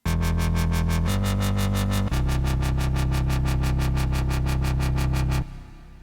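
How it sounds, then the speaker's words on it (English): Dubstep wobble bass synth built in Native Instruments Massive, loud and sustained with a fast rhythmic wobble pulsing throughout, a pitch drop about two seconds in, then cutting off abruptly near the end. "Today I'm going to be teaching you how to make a dubstep wobble that sounds something like this."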